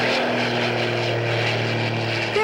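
A propeller airplane drones overhead above homes, a steady, sustained engine hum held at an even level throughout, moderately loud with no speech.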